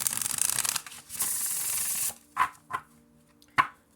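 Brisk riffling and sliding of tarot cards, a continuous rustle for about two seconds, then a few short separate snaps as cards are tapped and squared.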